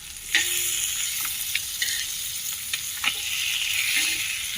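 Fish frying in hot oil in a pan over a low flame, a steady close sizzle with occasional sharp crackles and pops, no speech.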